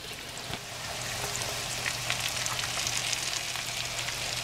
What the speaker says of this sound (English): Now we're going to saute that up with the onions.